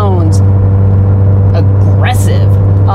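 Scion FR-S sports coupe fitted with a Cosworth Stage 0.3 power package and cat-back exhaust, driving with a steady, loud engine drone throughout and pitch rising briefly as it revs, with a voice talking over it.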